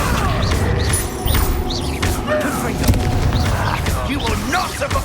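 Spell explosions in the video game Hogwarts Legacy, a steady run of booming, crackling blasts and impacts layered over busy combat noise, with a voice shouting over the action.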